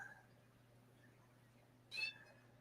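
A single short cat meow from the God of War Ragnarok video game, faint and brief against a quiet steady game hum.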